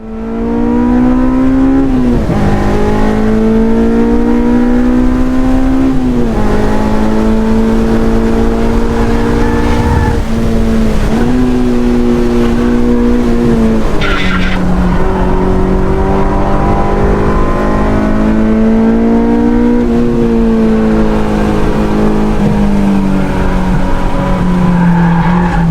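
A car on a racetrack brakes hard into a turn; its loud, steady engine drone shifts and drops in pitch, with a tire squeal faintly in the mix, continuous throughout and no voices.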